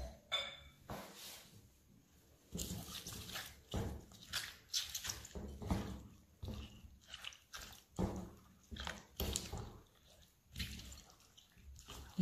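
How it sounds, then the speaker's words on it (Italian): Artichokes rinsed under abundant running cold tap water in a home kitchen, a series of irregular splashing and gushing bursts, fairly quiet and close, with brief handling noises between. "Ora vado a lavare i carciofi sotto abbondante acqua corrente."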